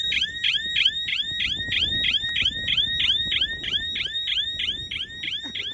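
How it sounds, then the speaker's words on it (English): An electronic alarm repeats a rapid, warbling chirp in a steady rhythm, sounding continuously over a low outdoor rumble. "We've just had an alarm go off in the middle of nowhere."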